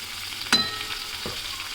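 Green chillies and grated ginger paste sizzle softly in a pan with a steady low frying hiss, broken by a couple of brief stirring scrapes.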